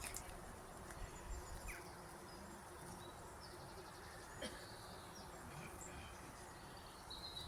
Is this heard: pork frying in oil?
no